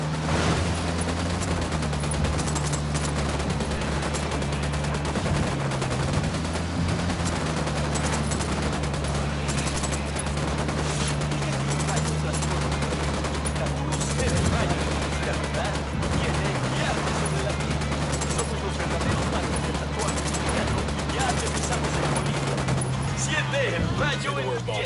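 Sustained bursts of automatic gunfire from a Ghost Recon Wildlands firefight, dense and continuous over a steady low engine hum, with voices talking at points.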